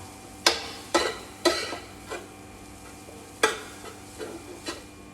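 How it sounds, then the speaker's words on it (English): A spoon stirs flour roux in a pan for gravy, giving a series of distinct scraping strokes spaced about a second apart over a faint background hiss. "Once I've got my flour in there, I can mix that around and again, let it cook"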